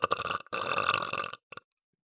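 Deep, brassy, bubbly burps from a woman: a short burp, then a long rumbling one lasting most of a second, and a small final belch, loud and close with no talk.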